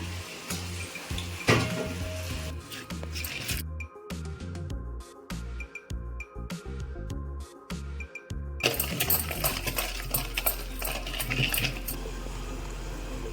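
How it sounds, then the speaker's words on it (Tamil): Chopped dried red chili frying in oil for a prawn thokku, with garlic already tempered in the pan; a crackling sizzle interrupted by clattering utensil taps and a steady mechanical hum. "இப்போ வந்து ஒரு காஞ்சி மிளகா கட் பண்ணி வச்சுருக்கிறேன் அதையும் எண்ணெயில் வத்துக்கலாம்"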